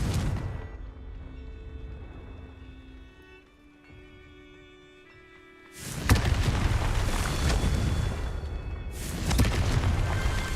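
A Confringo explosion curse spell in Hogwarts Legacy, heard as a sudden loud blast that erupts into a sustained roaring burst, followed by a second surge, after a quieter stretch of magical tonal hum.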